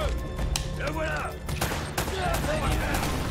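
Gunfire in the video game Uncharted: Drake's Fortune: a few sharp shots ring out amid game music and ambience, with a voice talking over parts of it.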